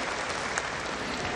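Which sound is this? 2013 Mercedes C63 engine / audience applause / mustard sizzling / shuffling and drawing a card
audience applause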